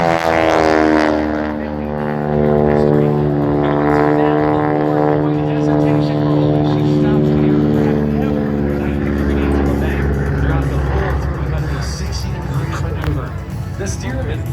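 A Stearman biplane passes at an airshow, its propeller tips going supersonic at around 2,400 rpm, making a loud, harsh, buzzing drone with a strong pitch that shifts gradually as it flies by, and a crowd murmurs faintly underneath.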